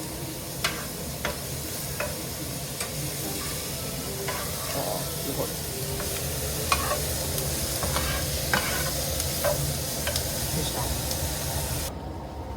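Onions and Steak-umm sliced beef sizzle steadily in a hot pan while being stirred, a constant frying hiss with scattered scraping ticks of the utensil close by.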